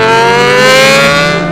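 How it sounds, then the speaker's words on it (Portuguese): A group of loud motorcycles, including a Honda CBR600RR, revs hard nearby on a road in the Mogi region, a sustained screaming engine wail with rising tonal pitch filling the whole moment, no talk over it. "Eita, moto do chorão que berra, viu, mano?"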